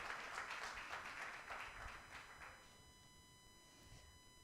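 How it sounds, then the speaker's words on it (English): Scattered audience clapping at a national dialogue panel on women leaders, faint and distant, thinning out over a few seconds under a steady background hum. "A big clap for her as well."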